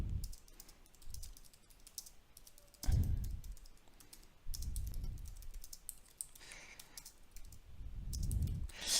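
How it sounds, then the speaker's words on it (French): Ordinary text is typed on a computer keyboard, with quick, soft key clicks running irregularly throughout. Low thumps and background rumble sit underneath, and nobody speaks. "je tape un texte tout à fait classique"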